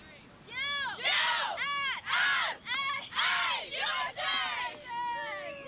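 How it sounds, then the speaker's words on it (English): Spectators on the beach at the ISA World Junior Surfing Championship chant and cheer in rhythmic bursts, several loud rising-and-falling group shouts repeated with short pauses between, heard from nearby. "Listening to the cheer."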